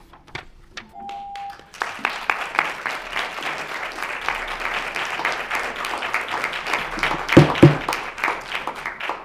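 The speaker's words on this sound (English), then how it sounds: "In between speakers, stop the applause" Sustained applause from an audience at a city council evening session, a dense crowd of clapping that swells after a few scattered claps and keeps going steadily and loud.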